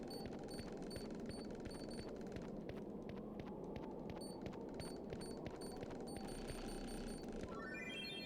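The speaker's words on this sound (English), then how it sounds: "You can hear some of my controllers beeping, which means that there's a cham nearby." Game controllers beep steadily while playing Return to Arcadia, signalling a cham nearby: short, evenly spaced high electronic beeps repeat over a constant low hum, with a quick rising chirp near the end.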